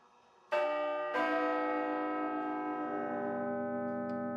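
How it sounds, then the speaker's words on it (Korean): An old church tower bell in Switzerland strikes twice for the quarter hour, each clear, ringing stroke leaving a long, slowly fading hum; close and alone, without talk. "15분마다 울리는 작은 종소리를 시작으로"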